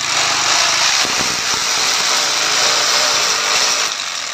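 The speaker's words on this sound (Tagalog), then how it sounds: "Kagaya niyan, talagang malambot lang or malakas lang talaga yung barena natin." A power drill bores through the metal of a window grill during fabrication, a loud, steady, high whine with grinding that lasts throughout, close up and with no talking.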